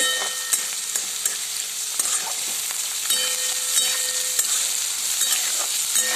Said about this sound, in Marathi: त्यात टाकून घेणार आहे काजू, ते पण छान असे परतून घ्यायचे आहे